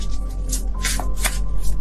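Tarot cards are shuffled by hand in quick riffling bursts, close and fairly loud over a steady low hum, with no talk.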